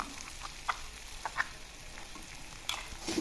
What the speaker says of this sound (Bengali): মাংসর সঙ্গে মশলাটা ভালো করে কষিয়ে নেব